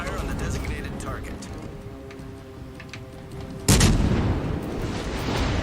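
Cannon fire in a video game artillery match: a sudden loud boom partway through gives way to a rumbling roar, after a stretch of lower game ambience and faint tones.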